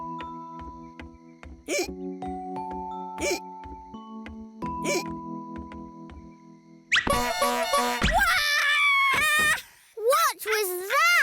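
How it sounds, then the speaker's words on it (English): A cartoon toy tooty horn hidden under a chair gives a run of short toots at stepped pitches, followed by lively cartoon voices and exclamations. "I put a tooty horn under the chair to surprise you all."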